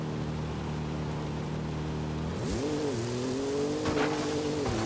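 A car engine in Forza Horizon 5, driven with a steering wheel and gear shifter, idles steadily, then revs sharply upward in first gear and holds a high, strained drone close up, with no talking.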